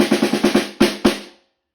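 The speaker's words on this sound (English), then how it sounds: "let me put it on and the drum sounds like this" A snare drum with snares engaged is struck in a quick run of six hits, then two louder accented strikes, each with a crisp buzzing rattle that fades out.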